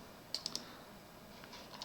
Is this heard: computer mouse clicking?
yes